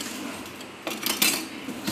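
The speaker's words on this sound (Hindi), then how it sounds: "स्पैचुला की मदद से हम इसको अच्छे से मिक्स करेंगे" A spatula scrapes and stirs brownie batter in a bowl, giving soft scraping strokes with a few brighter clinks against the bowl's side near the end, heard close and moderately quiet with no talking.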